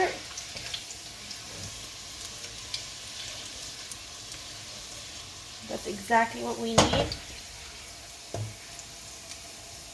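Chili and ginger fry in a pan for a chicken karhai, giving a faint, steady sizzle and light crackle with a few utensil clinks, while a person speaks briefly over it.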